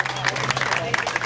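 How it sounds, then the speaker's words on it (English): Brief applause from an audience at a mayoral candidate's campaign event, with a crowd clapping in a dense wash and some voices mixed in, lasting only a moment. "Jane Kaufman, let's give her a round of applause"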